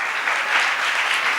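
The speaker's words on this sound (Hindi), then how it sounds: "ताली काहे को बजा रहे हो?" Audience at a spiritual discourse clapping together, a brief, full and steady wash of many hands applauding without speech.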